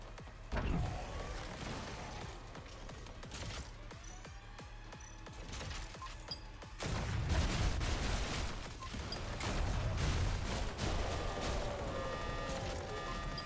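Gunfire in the Stellar Blade action game, with bursts of shots and impacts that crack through a dense, rumbling combat mix and grow heavier in the second half.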